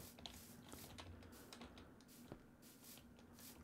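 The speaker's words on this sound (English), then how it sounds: "I apologize for my keyboard sounds" Computer keyboard typing during a TerraFirmaPunk Minecraft session, a quiet, irregular patter of soft key clicks over steady low background hum, with no talking.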